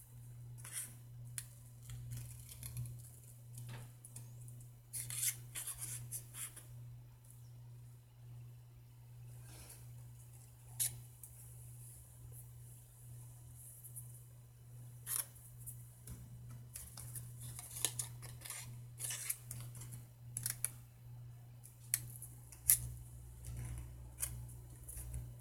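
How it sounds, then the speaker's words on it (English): Dull, paint-smeared scissors snip in faint, irregular bursts of small crisp clicks while crafting altered Halloween bottles, set against a steady low hum with no talking. "I've got to sharpen my scissors."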